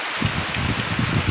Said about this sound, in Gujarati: એના બદલે આપણે વરસાદ ચાલુ થઈ ગયો. આજ જોઈ શકો તમે